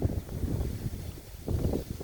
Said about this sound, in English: And sorry about all the wind. It's really there.